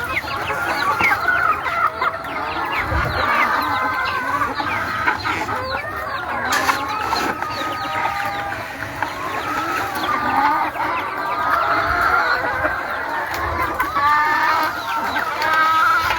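DeKalb chickens, a leghorn strain kept in the Philippines, clucking busily in a flock. Overlapping clucks and squawks run continuously with a few louder calls, close and lively.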